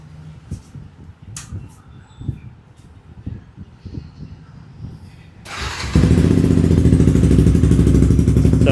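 Several seconds of quiet clicks and handling noises come before a Yamaha R15 motorcycle with an Akrapovic exhaust and its dB killer removed fires up. It settles into a loud, steady, close-up idle for the last few seconds.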